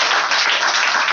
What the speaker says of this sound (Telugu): ప్రభు నామాన్ని గట్టిగా చప్పట్లు కొడతా